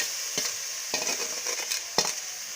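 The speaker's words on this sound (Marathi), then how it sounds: "आता आपण हे पुरण परतून घेणार आहोत." Cooked lentils for puran are stirred and sautéed in a pan, with a soft continuous sizzle broken by a few sharp scrapes of a spoon against the pan, close and fairly quiet.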